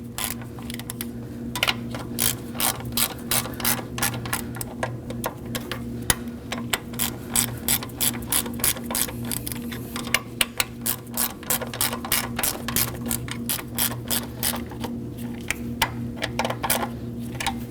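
Ratchet tightening valve cover bolts on a Kia Optima, rapid close clicking in repeated bursts with brief pauses, steady and fairly quiet.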